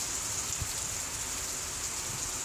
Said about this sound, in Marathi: भरपूर पाऊस सगळ्या बाजूला भरलाय.